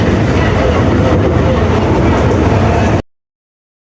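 Train running on rails during heavy rain, a loud dense rushing roar heard from onboard for about three seconds before cutting abruptly to silence.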